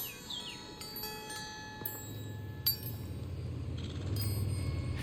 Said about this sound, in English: And lastly, listen for the wind chimes.